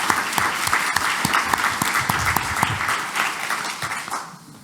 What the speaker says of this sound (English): give Dr. Grekin and David Newman a big round of applause